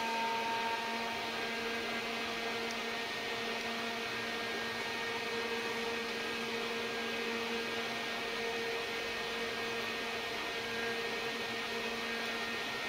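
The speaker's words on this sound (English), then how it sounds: "now I will switch on the 1241. Wait for finishing of the valve test" A Tektronix 1241 logic analyzer runs after power-on, giving off a constant electrical hum and steady fan-like whir with faint tonal whine, unchanging and close, with no talk.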